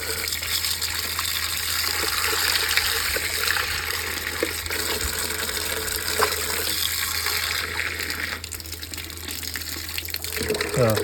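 Milky, foaming water runs steadily from an outdoor tap in Kolhapur, a constant close rushing gush that continues throughout with faint talk underneath.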